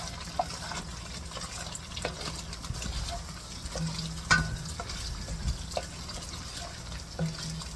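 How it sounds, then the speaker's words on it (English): Broth pours into a pot of tofu vegetable soup with roasted peppers and garlic, a soft, steady liquid trickle with small splashes and light clinks, fairly quiet throughout. "Now I'm adding the broth, 2 cups."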